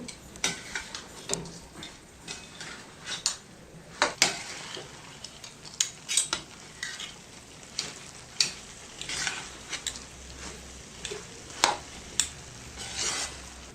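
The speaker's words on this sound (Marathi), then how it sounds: "आता ही बुंदी जी आहे ती ह्या पाकाबरोबर आपण छान मिक्स करून घेणार आहोत" A spoon stirs boondi into sugar syrup in a pan, making soft, rhythmic scraping and clinking strokes against the metal, quiet and close, with no talking.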